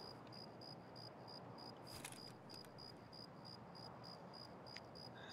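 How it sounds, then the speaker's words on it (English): Crickets in the video game Escape from Tarkov chirp in a regular pulsing rhythm, very faint over low ambient hiss, with a couple of soft clicks in between. "we can hear the crickets at least"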